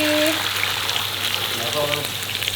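Water poured into a pot of simmering beef tendon gulai, Padang-style, sizzling and bubbling loudly and steadily throughout, with faint voices in the background.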